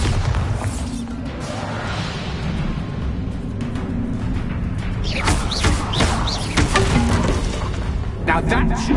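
A Bombarda explosion spell in the Hogwarts Legacy video game sits within a continuous, heavy rumble of booms and crackling battle noise that holds steady throughout.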